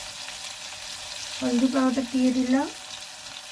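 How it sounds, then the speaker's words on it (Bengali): Potato pieces fry in hot oil with salt and turmeric for a homemade Bengali fish and greens dish, a steady soft sizzle running throughout while someone speaks briefly in the middle. "এদিকে লাল লাল করে ভাজা হয়ে গেছে আলুটা"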